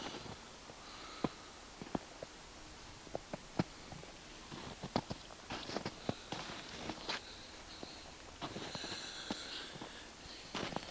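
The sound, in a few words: person sniffling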